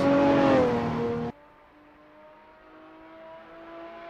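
A race car's engine roars loudly on a track straight, the revving tone climbing in pitch, then cutting abruptly to a faint, steady distant engine hum.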